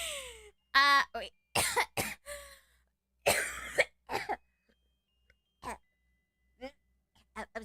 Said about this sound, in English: Every time my heart rate spikes really high, I tend to cough and then gag a little bit.